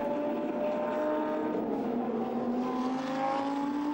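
Lamborghini Super Trofeo race cars running through turns 5 and 6 at the Nürburgring make a continuous engine drone with shifting tonal whine, steady and fairly loud, no talk over it.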